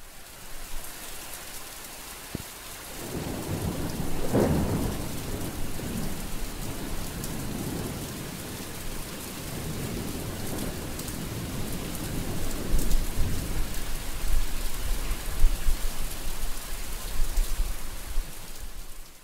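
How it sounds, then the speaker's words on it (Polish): Thunderstorm with heavy rain over Lviv in summer: steady rain pattering on surfaces, with rolling thunder rumbles rising and fading, including a sharper crack early on. "kolejna burza tego roku, kolejna burza tego lata"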